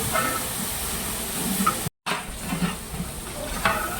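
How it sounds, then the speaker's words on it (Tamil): Coriander, mint and ginger-garlic sauté in oil in a large pot for a twelve-kilogram chicken biryani, with a steady close sizzle and hiss, scattered stirring scrapes and a brief cut of silence in the middle. "எண்ணெயில் ஒரு 2-3 நிமிஷம் வதக்கணும்."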